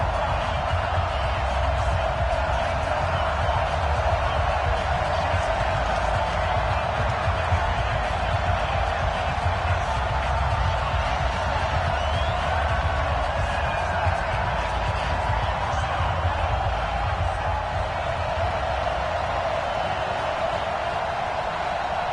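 Stadium crowd roars and murmurs steadily throughout a Carolina Panthers versus Minnesota Vikings game in an EA Sports football video game, a dense, unbroken wall of fan noise with no clear peaks.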